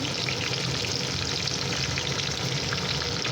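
Garlic, green chillies and curry leaves frying in oil, giving a dense, loud, continuous crackling sizzle close up that stays even throughout with no voices.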